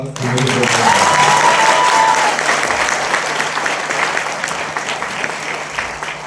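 Warm audience applause at a health event in Ferozepur, loud and sustained from start to finish, with a brief voice heard over the opening moments.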